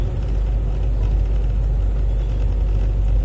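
A brand new truck, speed-governed, runs steadily while driving on a snowy road, a constant low engine drone close to the cab with no talking.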